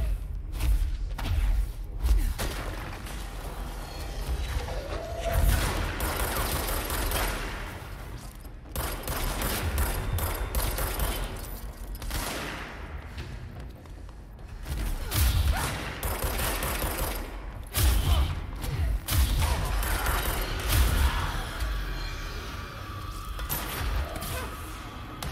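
Enemy gunfire in the game Control, scattered bursts and thuds of shooting over a steady wash of combat noise, moderately loud and continuing throughout.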